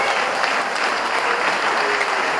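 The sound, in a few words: audience applause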